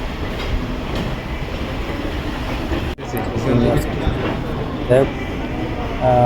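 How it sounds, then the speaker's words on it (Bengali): A Dubai metro train gives a continuous rumble and rattle with occasional faint squeals, and people talk over the noise. "আমরা চলে আসছি এবার দেওয়ার ট্রেনে উঠব মেট্রো স্টেশনে যাচ্ছি"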